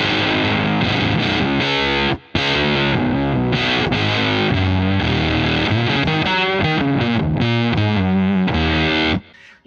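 Electric guitar played through an Octo Puss octave-up pedal, chords ringing with a harsh, fuzzy upper-octave edge and extra harmonics; continuous, loud and close, with a brief gap, no talking.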